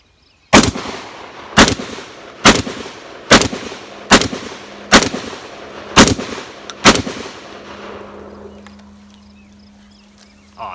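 Mossberg 930 SPX semi-automatic shotgun firing number 8 birdshot at a man-sized silhouette target and phone book on a range: eight loud, sharp blasts in steady rapid succession, each with a short ringing decay, then a fading echo and low hum.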